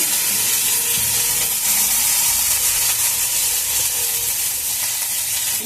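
Cumin, ginger, chilli and coconut paste frying in hot oil, a dense continuous hiss and sizzle, loud and close, with light stirring sounds.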